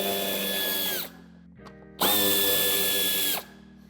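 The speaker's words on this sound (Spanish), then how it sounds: "tenemos que aflojar los dos tornillos de Torx de 25" A power tool loosens Torx 25 screws on a Mercedes-Benz Vito van. It gives two close, loud whirring bursts of about a second each, and each one drops in pitch as it winds down, with a short gap of faint clicks between them.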